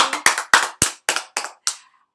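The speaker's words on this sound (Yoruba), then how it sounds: "Ẹ pàtẹ́wọ́ fúnra yín." Children clap their hands for themselves in a short burst of about eight sharp, close claps spaced a little unevenly, ending with a brief pause before one more clap.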